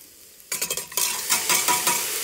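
Onions and curry leaves sizzle and fry in a pan for ridge gourd curry while a spoon stirs and scrapes, with several close, clattering strokes over a steady hiss after a quiet start.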